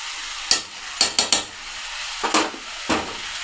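Cabbage curry with garam masala and ghee is stirred in a pan: about six distinct scraping strokes of a spoon against metal over a low, steady sizzle, with no talking.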